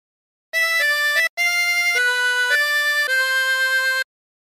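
A harmonica plays a short phrase of O Christmas Tree, a clear sequence of sustained reedy notes with one brief gap, loud and alone with no talking.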